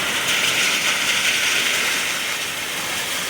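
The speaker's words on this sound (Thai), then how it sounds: "ตอนนี้ก็ฝนตกด้วยครับ" Steady rain falling in late April, heard as a continuous, even hiss of drops on surfaces with no voices and no breaks.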